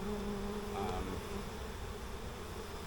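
A disturbed honeybee colony with burr comb throughout the hive fills the air with a dense, continuous buzz, close and steady, with a slightly higher drone swelling briefly.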